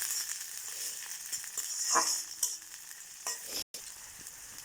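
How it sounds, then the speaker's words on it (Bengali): Sliced onion and chili sizzle steadily in hot oil in a pan while a utensil stirs them with soft scraping strokes, a close, continuous frying sound with brief clatters. "পেঁয়াজ দিয়ে দেওয়া হলো মরিচ দিয়ে দিয়ে নেড়ে চেড়ে নিতে হবে"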